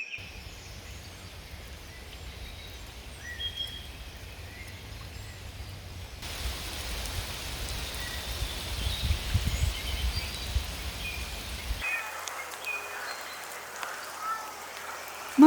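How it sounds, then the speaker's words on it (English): Rain starts falling around a rooftop shelter where a wildcat and her kitten live, a soft steady patter with faint birds and insects in the background, fairly even throughout, no voices. "It is starting to rain"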